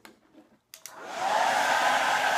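A hair dryer heats a Jamberry nail wrap at a fingertip; a few brief bursts give way to a steady, loud continuous blowing whoosh that starts abruptly and keeps running.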